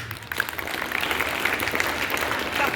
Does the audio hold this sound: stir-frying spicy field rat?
no